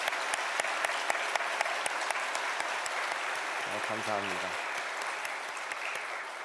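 A church congregation applauds volunteers, steady dense clapping running throughout, with a voice speaking briefly over it.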